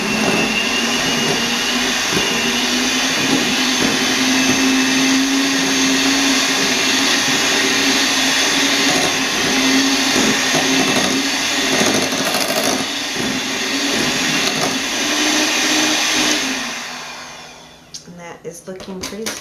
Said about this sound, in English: So now we're just going to mix until this is combined and,